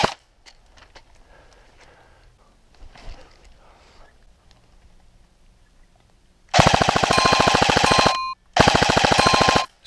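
Airsoft support gun fires two long sustained bursts near the end, loud and close, during a capture-and-defend-the-flag game at a stronghold, after quiet rustling and faint movement.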